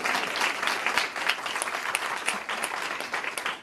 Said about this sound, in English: Oh, you should clap.